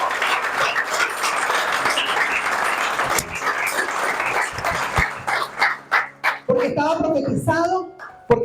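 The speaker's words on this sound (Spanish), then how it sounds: "Yo quiero que usted le dé un aplauso al Señor Jesús, porque resucitó" Congregation in a church applauding Jesus during a resurrection sermon, sustained loud crowd clapping mixed with cheers that breaks up into scattered claps and voices near the end.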